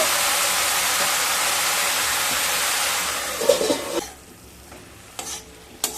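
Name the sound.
stirring pumpkin greens cooking in a pan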